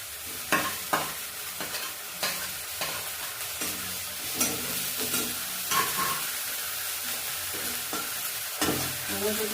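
Onion frying in hot oil with garlic paste and ginger paste, a steady sizzle broken by repeated scraping stirs of a spatula in the pan, close and busy, with no talking.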